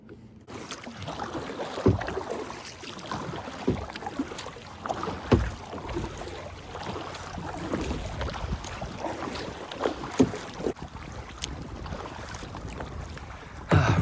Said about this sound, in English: So we're gonna hit the waters on this kayak